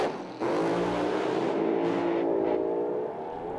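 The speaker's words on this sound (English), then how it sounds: "On and off the throttle a couple of times and then gives it away." Pro alcohol funny car at a drag racing meet at Willowbank Raceway, blipping on and off the throttle: a loud, close engine snarl that jumps in and holds a raspy roar with rising and falling revs, without talk.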